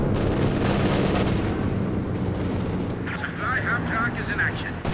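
Recon plane droning overhead in Company of Heroes 2, a steady loud aircraft roar over battlefield rumble with a commentator speaking through it.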